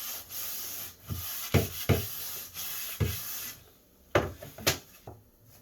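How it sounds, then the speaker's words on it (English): Wood surface being scuffed with abrasive before gluing: a series of short, close rubbing strokes in irregular bursts separated by brief pauses. "we're going to scuff it up a little bit, just so that the glue adheres better."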